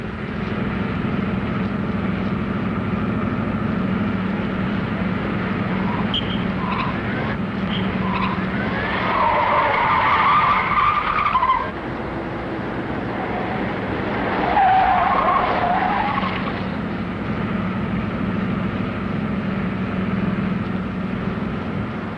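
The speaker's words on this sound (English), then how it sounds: "Intercept 2 speeding cars headed east, now being followed by police car number 34." Speeding cars in a police chase roar continuously with tires squealing and skidding, loud and close, with no voices.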